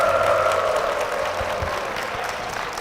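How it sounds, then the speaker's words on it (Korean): A church congregation applauds its pastor with a steady, dense wash of clapping that stays even throughout, while a faint tone hums underneath. "목사님을 위해서 힘찬 박수 부탁드립니다"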